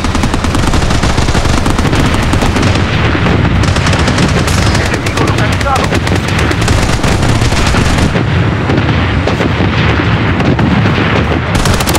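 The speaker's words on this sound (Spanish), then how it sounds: "Solicita un bombardeo." A called-in bombardment in the shooter game Blood Strike pounds on as loud, continuous rapid gunfire mixed with booming explosions, dense and close throughout.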